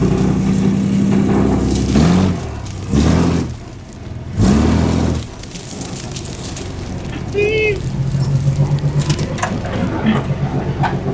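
An 8-foot-wide rock crawler's engine revs and drones steadily while driving, with louder surges near and rough mechanical rumble throughout, as people talk briefly over it.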